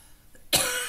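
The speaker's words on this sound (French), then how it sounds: "Moi, j'ai fait pause pour tousser tranquillement" A single sharp cough bursts out after a brief quiet pause, close and fairly loud, trailing off with a breathy tail.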